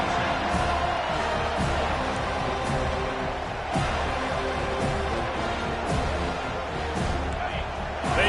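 A football stadium crowd cheers and roars steadily, a dense wash of noise with scattered sharper shouts and thuds, under a commentator talking.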